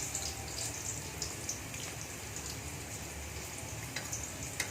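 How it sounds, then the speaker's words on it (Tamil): Dissolved tamarind and tomato liquid is strained through a sieve, making a continuous close watery trickle with small splashes and drips throughout. "புளியும் தக்காளியும். நல்லா சக்கை இல்லாமல் வடிகட்டி எடுத்து வச்சுக்கலாம்."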